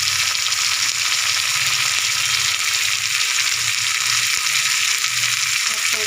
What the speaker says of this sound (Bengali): দিয়ে আমি একটু ভেজে নেব।